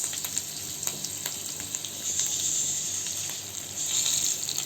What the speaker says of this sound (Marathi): त्याच्यामध्ये तेल गरम करत ठेवलं आहे त्याच्यामध्ये आपण आता जिरं घालून घेऊ मग मिरची